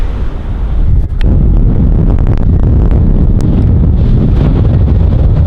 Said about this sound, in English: I don't know if you guys can hear me because the wind is super strong